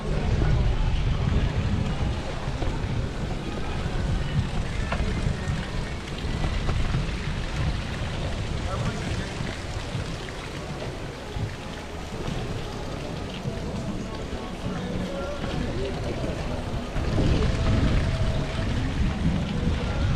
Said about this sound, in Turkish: Hava biraz soğumaya başladı. Esiyor. Fena esiyor.